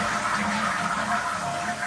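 A toilet flushes, a steady rushing gurgle of water that stays loud and even for the whole short stretch, with no voices.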